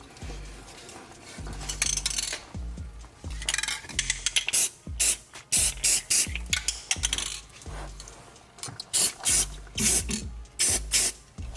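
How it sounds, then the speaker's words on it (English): Repeated short bursts of aerosol spray paint on car parts for rust protection, hissing on and off in quick succession, close by with faint clinks and rattles between sprays. "I'm gonna, you know, ghetto spray paint"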